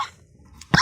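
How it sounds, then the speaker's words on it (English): A single short cough bursts out near the end of a quiet stretch in an interview setting, loud and close after near-silence. "Now I'm going to cough."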